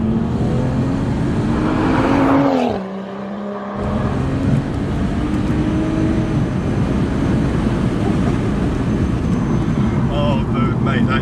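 Loud, tuned 390 bhp BMW 135i M accelerating hard, a deep roaring exhaust climbing in pitch, briefly cutting out at a gear change, then pulling again with heavy wind noise from inside the car.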